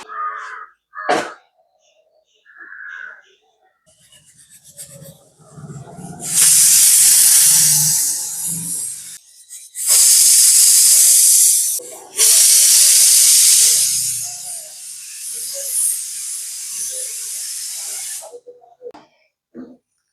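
A pressure cooker cooking squid lets out several loud, sustained hissing bursts of steam, separated by quieter pauses, with a few faint calls in the background.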